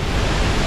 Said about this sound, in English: Too much water coming over the falls right there.